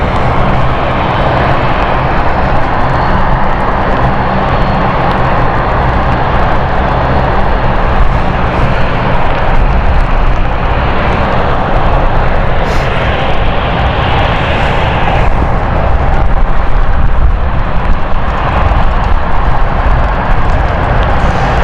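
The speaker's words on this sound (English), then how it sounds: "So the Dublin flight will be a lot quicker" An airliner on approach into London City on a stormy night, its engines droning loudly and steadily overhead throughout, with no talk over the sound.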